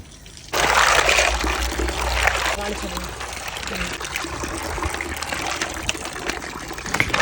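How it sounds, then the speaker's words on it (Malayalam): Running water splashes and trickles steadily while clams are rinsed and swished in it, a busy close wet sound lasting throughout. "ആ ഒരു ചിപ്പിയെല്ലാം ഞാൻ ക്ലീൻ ചെയ്ത് നന്നായിട്ട് ഒരു നാലഞ്ച് വെള്ളം നല്ലോണം കഴുകിയെടുക്കണേ"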